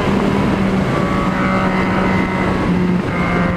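Motorcycle engine revs loudly and steadily up close, a dense buzzing drone that holds through with slight pitch shifts.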